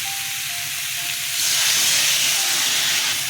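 Water poured into a hot pan of fish curry with ridge gourd and potato lets out a steady broad hiss of steam that swells louder midway and holds, close and alone.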